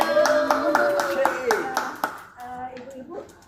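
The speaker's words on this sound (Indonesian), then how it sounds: "tepuk tangan dulu" A group of women at a nursing and midwifery public speaking training in Bogor clap hands in a quick, even burst of about two seconds, then someone speaks.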